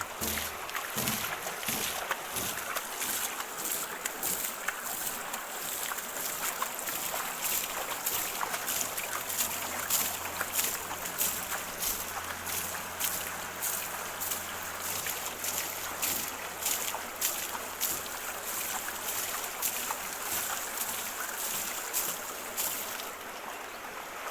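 Water hose spraying steadily onto a muddy car during washing, a continuous broadband hiss with splashing that holds at moderate level throughout, outdoors with faint wind noise.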